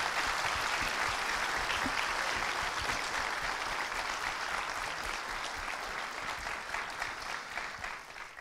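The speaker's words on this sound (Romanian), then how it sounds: "un rând de aplauze pentru Consiliul Județean Buzău" A concert audience at a performance by the GLORIA DEI National Adventist Choir and Orchestra bursts into a long, full round of applause, dense and steady at first and tapering slightly toward the end.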